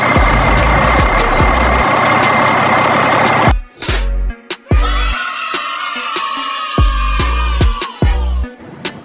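An underground mining truck gives off repeated sharp reversing beeps at a steady rhythm over a loud engine rumble, which drops away briefly before the beeping continues close by.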